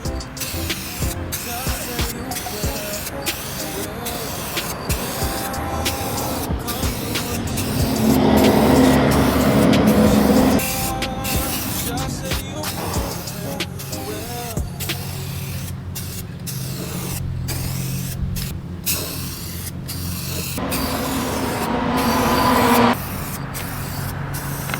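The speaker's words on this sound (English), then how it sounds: "Little rattle can." A rattle can sprays paint onto a car panel in repeated hissing bursts, short puffs broken by brief pauses and a longer steady spray in the middle, close and loud, with quiet outdoor background between passes.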